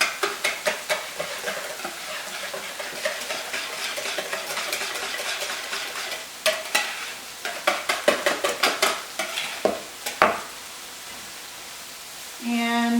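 A utensil stirs an egg mixture for an Italian frittata in a bowl, giving quick rhythmic clicks and scrapes in steady runs with short pauses, close and fairly loud, with no talking.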